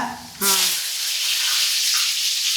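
Dried red chillies and curry leaves hit hot oil in a pan, bursting into a loud, steady hiss and sizzle that starts suddenly and carries on close up, with a brief voice just before the frying begins.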